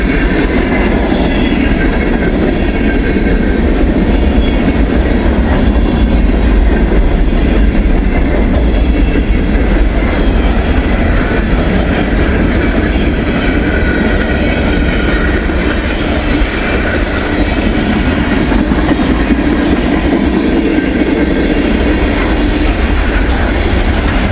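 A passing train throws snow off its railroad cars as they roll by on a snowy day, producing a loud, continuous rumble and steady clickety-clack of wheels on the rails with no talking.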